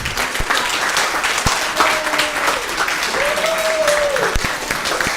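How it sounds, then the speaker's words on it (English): An audience at a Spirit Seekers weekend evening event applauds medium Jacqueline Hill, steady dense clapping filling the room for several seconds while a voice briefly speaks over it. "Round of applause for Jacqueline."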